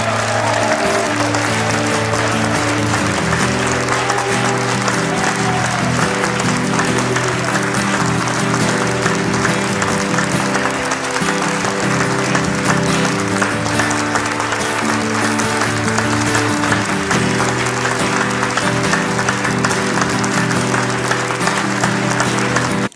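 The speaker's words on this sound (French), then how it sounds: "Now put your hands together for Jesus." A congregation at a church gathering applauds Jesus in a long, loud, sustained ovation, dense clapping filling a large room, with some voices mixed in underneath.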